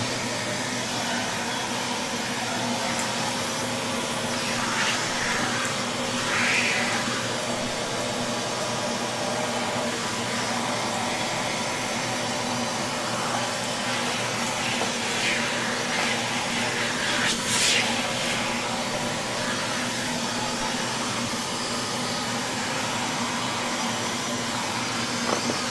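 A shop vacuum runs steadily while cleaning dust off a workshop bandsaw, a continuous broadband whine and hiss with slight surges as the nozzle moves, fairly close and with no talking over it.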